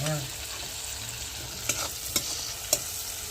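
Poha upma with fried cashews stirred in a hot pan, a constant sizzle of frying with three distinct scraping strokes of the spoon, close and clear with no talking.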